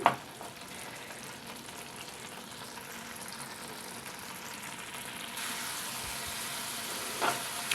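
Curry with fried vadiyalu sizzling steadily in a pan while being stirred, a continuous close frying hiss with occasional spoon scrapes and no voices.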